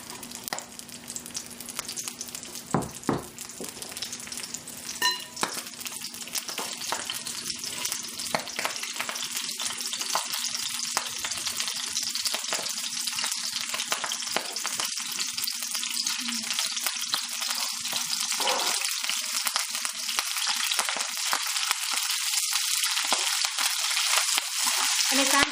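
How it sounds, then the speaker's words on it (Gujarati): Young broccoli stir-frying in hot olive oil, a dense, continuous sizzle and crackle close to the pan, with occasional sharper pops and stirring clicks, no speech. "તો જરાક જૈતુનનું તેલ ગરમ થયું એટલે હું આ બ્રોકોલી નાખી દઈશ।"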